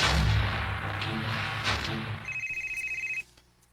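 A telephone rings in a drama scene, one rapid pulsing electronic trill lasting about a second, heard after some muffled thuds and background noise.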